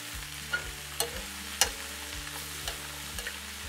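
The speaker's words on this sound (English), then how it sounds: "We just want them to saute" Onions sautéing over lowered heat in a pan for French onion soup, a soft steady sizzle punctuated by several sharp utensil clinks and scrapes, close and without talk.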